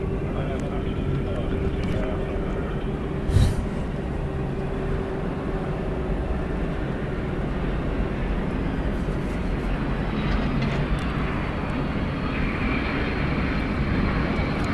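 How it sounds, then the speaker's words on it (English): A jet airliner takes off from a runway at Atlanta Hartsfield-Jackson International Airport, giving a continuous broad engine roar heard from a distance with a faint whine and a brief thump early on. "Snuffy, runway 26 left, clear for takeoff"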